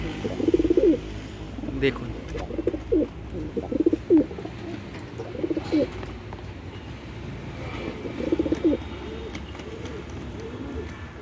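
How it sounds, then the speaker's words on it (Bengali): Pigeons at a breeder's loft softly cooing in repeated rolling bursts, close by, with someone talking over them and faint background noise. "দারুণ কোয়ালিটির পায়রা"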